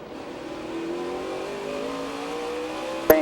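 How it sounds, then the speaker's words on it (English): NASCAR stock cars at Chicagoland in 2007 drone past as the pace car leaves, a sustained rising engine roar with layered harmonic tones and a sharp click at the very end. "Pace car is off. We're going racing at Chicagoland."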